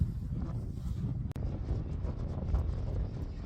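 Wind gusts at sea during lure fishing for rockfish from a boat, giving a steady low roaring rumble that runs continuously throughout.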